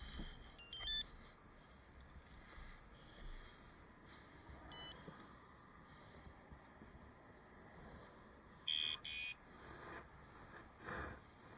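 Upgraded aftermarket alarm on a Can-Am Ryker sounds a few brief, faint electronic chirps at scattered moments, set against low wind and outdoor background noise.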